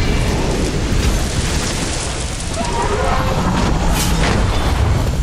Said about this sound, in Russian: Сейчас это взрывается,